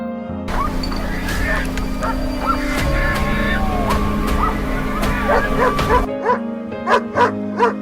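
Hunting dogs give a continuous chorus of barks, yips and whimpers during a wild boar hunt in a forest, overlapping and fairly close, thinning after a few seconds to a handful of separate yelps.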